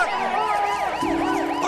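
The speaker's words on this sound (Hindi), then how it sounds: "थोड़ी दूरी पर जाने के बाद इनको सुनाई देता है पुलिस का सायरन" A police siren in a movie wails in rapid, repeating up-and-down sweeps, loud and close, with a lower steady tone joining halfway through.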